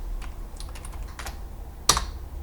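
A computer keyboard being typed on to enter a volume name: light, scattered keystrokes at close range, with one sharper, louder key press near the end.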